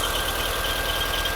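A car engine idles during a test run after distributor repair work, a steady, close, continuous low mechanical rumble with an even pulsing beat and no voices.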